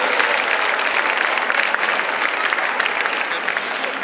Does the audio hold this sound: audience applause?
yes